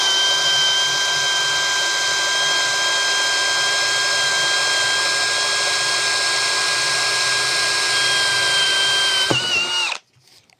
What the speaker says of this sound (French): un perçage sans trop de difficulté